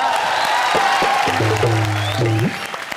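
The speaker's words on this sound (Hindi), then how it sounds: "फिर से जोरदार तालियां मेरे लिए" Studio audience at a Hindi comedy show applauding loudly and continuously, dense clapping filling the room with a few cheers, fading slightly toward the end, with speech mixed into the crowd noise.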